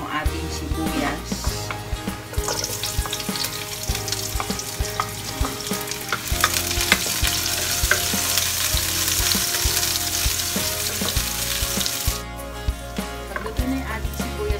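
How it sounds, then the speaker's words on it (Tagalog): Garlic and onion sauté in hot oil in a pan for Filipino menudo, a steady sizzle running throughout with scattered stirring clatter, loud and close, over steady background music. "Pagluto na yung ating sibuyas at bawang,"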